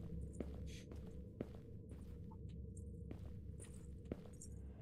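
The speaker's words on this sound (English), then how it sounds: "her footsteps are going away from me, though" Video game footsteps approaching indoors in a house, soft and fairly faint, a few scattered steps over a steady low background hum.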